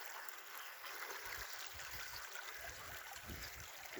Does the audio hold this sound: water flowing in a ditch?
yes